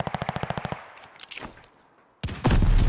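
Rapid automatic gunfire in a multiplayer shooter match, a tight burst of about a dozen loud shots followed by scattered distant shots and a final dense, heavy volley, with no talking.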